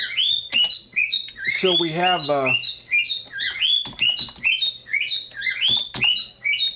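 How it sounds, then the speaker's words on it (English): Birds chirping close by, with rapid repeated high tweets and trills throughout, loud and bright, while someone speaks briefly partway through. "shut up, birds."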